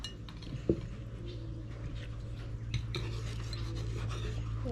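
Grandma scoops food from a pot with a metal utensil while making a traditional Thai bon (taro stem) curry, producing a few soft clinks and scrapes against the pot over a steady low hum, with one sharper clank near the start.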